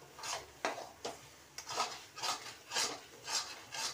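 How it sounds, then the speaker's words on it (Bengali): Mutton is worked and mixed in a pot for mutton kasha, a series of rhythmic rubbing, scraping strokes of a utensil against the pot, fairly quiet and close, with no speech. "ভালো করে মাখিয়ে নিই"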